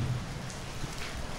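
Steady rain pours as a dense, even hiss of drops hitting surfaces, at a low level and without pause through the short stretch, with no voices.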